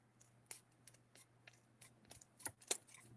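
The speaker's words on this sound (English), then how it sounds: "I'm gonna take my scissors to them so that they're all the same" Scissors snip paper pieces for a junk journal, a few quiet, irregular cuts and rustles over a low background hum.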